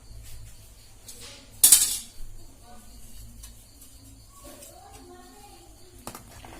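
A utensil mixes food in a pan with a sharp metallic clink near the start, then quieter scraping and stirring, with a faint voice nearby and a tap near the end.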